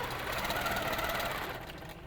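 A sewing machine stitches around a quilting ruler, a steady, fast mechanical whir and rapid needle chatter running at moderate loudness throughout the short stretch.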